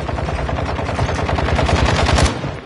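Rapid automatic gunfire from a video-game rifle loaded with a 100-round magazine rattles out in a loud, continuous burst of closely spaced shots, cutting off near the end.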